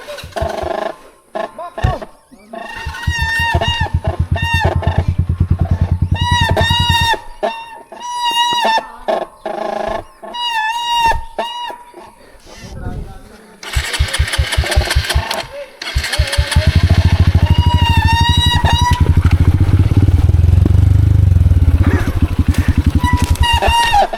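A Honda CRF 150 dirt bike on a forest trail sputters and revs in repeated bursts, cutting out and catching again before settling into a steady throaty run, close by, with riders talking over it.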